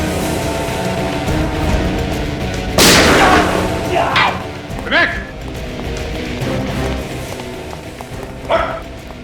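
A sharp gunshot rings out in a tense crime-drama confrontation, one loud crack followed by a few fainter bangs, with people speaking around it.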